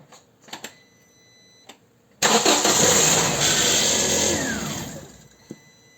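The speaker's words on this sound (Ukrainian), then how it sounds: "Запускаємо на секунду і глушимо." A car engine starts abruptly with a loud whirring roar during a power steering fluid change. It runs for about three seconds and is then switched off, fading out, with a few clicks and knocks before and after.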